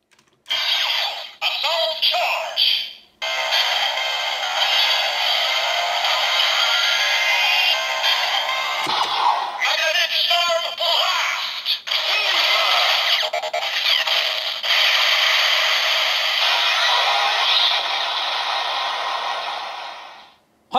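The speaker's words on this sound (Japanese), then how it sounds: "これがライダーキック音だ" An electronic Kamen Rider Vulcan Assault Wolf transformation toy plays its Rider Kick effect, a loud, bright, synthesized burst of sound with sharp cuts and dropouts, continuing for about twenty seconds before stopping.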